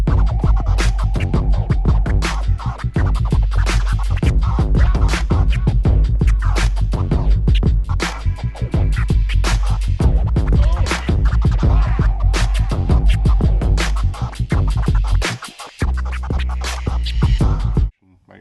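Turntable scratching by a DJ in a small shared studio: dense, rapid rhythmic scratches over a loud beat, near and continuous with a brief drop near the end.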